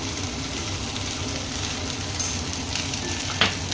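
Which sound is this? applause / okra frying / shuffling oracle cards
okra frying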